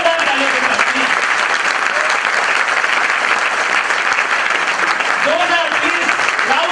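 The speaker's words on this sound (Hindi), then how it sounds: "जोरदार तालियों के साथ प्लीज" Loud, sustained applause from a large audience at a company seminar event, dense steady clapping filling the room throughout with a few voices faintly audible underneath.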